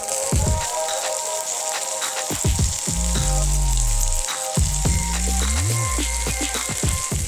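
Ginger-shrimp dumplings pan-fry in a hot pan with a steady, crackling sizzle, while low tonal sounds drift in the background.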